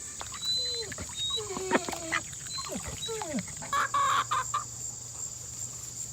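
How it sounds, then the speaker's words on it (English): Several Polish hens clucking and chirping close by, irregular short calls overlapping, with a constant high background hum and some rustling. "Polish hens doing all right."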